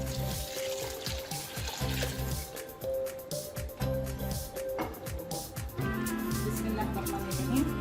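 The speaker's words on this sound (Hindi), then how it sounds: "दाल में हम पानी डाल के इसको पकने के लिए रखते हैं।" Water pours and splashes into a pot of soaked mixed lentils for dal, in short gurgling bursts with pauses, someone speaking faintly in between.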